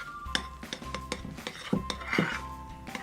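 Fluffy slime being mixed in a bowl, with irregular clinks and scrapes of a utensil against the dish and soft squelching, close and clear, no talk.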